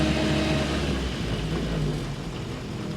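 The engine of a 1930s Standard Flying Eight revs loudly and close while the gearbox is worked through a gear change, its rough drone rising and falling for a few seconds; there is no talk.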